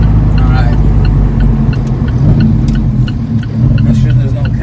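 Alfa Romeo 4C sports car accelerating hard, a loud, close engine drone heard from inside the cabin, steady and rumbling throughout with road noise.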